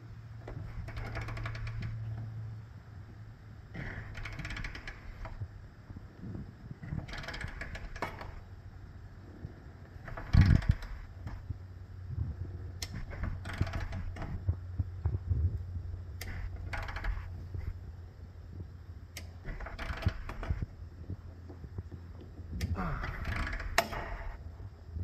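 Torque wrench tightening trailer hitch bolts on a 2021 Lexus NX300h: repeated bursts of ratcheting clicks in several separate groups, close and moderately loud, with a steady low hum and brief metallic knocks between them.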